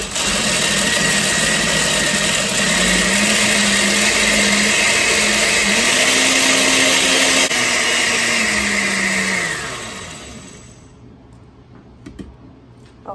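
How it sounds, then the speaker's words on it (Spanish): Countertop blender grinding cooked corn with water for white atole, a loud steady whir with a motor pitch that rises and settles, then winds down to a stop near the end. "Lo vamos a moler como en 3 partes para que no se sienta pesada la licuadora."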